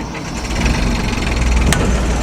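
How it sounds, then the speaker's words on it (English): A sailboat's inboard engine starts and settles into a steady low idle, a continuous rumble close by with a brief sharp click near the end. "So step one is turn the engine on."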